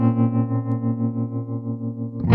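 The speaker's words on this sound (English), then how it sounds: "And finally, a tremolo." Electric guitar played through a battery-powered amp with tremolo engaged, a sustained distorted chord pulsing rhythmically in volume, then cut off abruptly near the end with a brief scrape.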